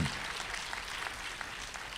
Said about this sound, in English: So let's give a round of applause again to all those candidates who are willing to do that